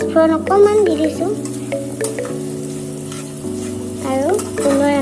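Onions fry with a pinch of panch phoron spice mix for dal tadka, a bright crackling sizzle with stirring scrapes, close and continuous beneath background music.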